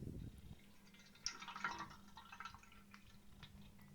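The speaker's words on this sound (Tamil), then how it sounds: "இப்போ பால் பிரித்து குண்டானில் ஊற்றிக்கலாம்." Milk poured into a cooking pot, a soft trickling and dripping splash that rises after a brief low knock, quiet and close, tapering into light drips.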